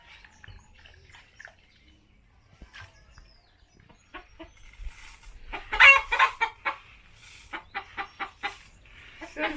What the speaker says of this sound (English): Sorry for the chicken.